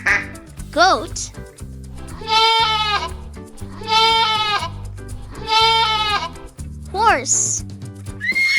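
Three long, quavering goat bleats ring out loud and close, evenly spaced, over soft background music with swooping chime effects before and after.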